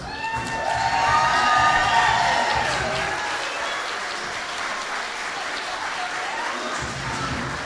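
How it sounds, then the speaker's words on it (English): Standing audience applauding and cheering graduates at a college graduation ceremony in a large hall, dense sustained clapping with whoops and shouts layered on top, loudest at first and then gradually easing off. "please remain standing and applaud your graduates"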